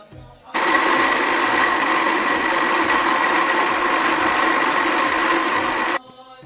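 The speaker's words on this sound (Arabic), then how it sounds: "غادي نطحن شويه هذا بوحدو" A kitchen blender grinds juice ingredients before water is added, running at a loud, steady roar for about five and a half seconds before switching off, close by and heard alone.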